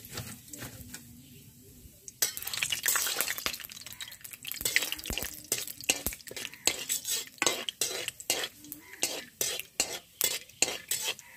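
Bay leaf, cardamom, clove and cinnamon frying in hot mustard oil in a kadai, a soft sizzle under repeated rhythmic spoon scrapes and clinks against the pan that grow louder after the first couple of seconds.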